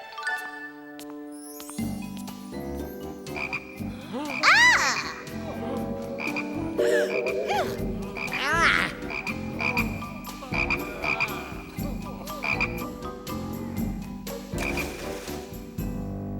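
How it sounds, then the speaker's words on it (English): Cartoon frogs from the Bible plague story croak repeatedly and loudly, in uneven bursts layered over sustained tones and clicking, ratchet-like effects. "Make the frogs go away."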